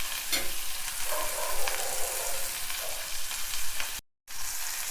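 Millet kichidi ingredients sizzle and fry in a pan while a utensil stirs and scrapes through them, a steady close hiss with a brief dropout near the end.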